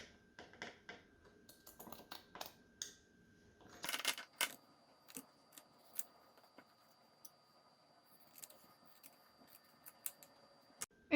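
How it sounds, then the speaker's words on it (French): Scissors snipping through cotton fabric, cutting traced circles in half: sparse, quiet, crisp cuts and clicks spaced irregularly against near silence. "on trace un trait au milieu des cercles et on les coupe en deux"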